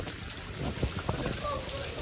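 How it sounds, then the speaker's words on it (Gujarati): Heavy monsoon rain pours steadily in Jamnagar, a dense, even rush of drops drumming on surfaces close by, with faint voices now and then under the downpour. "અત્યારે તો ભાઈ બહુ વરસાદ પડી ગયો"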